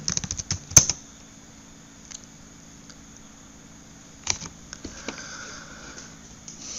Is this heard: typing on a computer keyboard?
yes